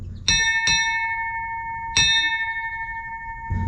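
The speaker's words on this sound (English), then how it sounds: "3 bells are rung for the first hour and a half" A ship's bell on a 17th-century sailing ship is struck three times for the watch, two quick strokes and then a third after a pause, each ringing out clearly with a long metallic tone.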